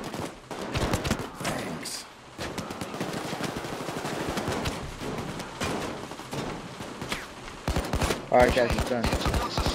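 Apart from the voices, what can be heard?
gunfire in the video game PAYDAY 2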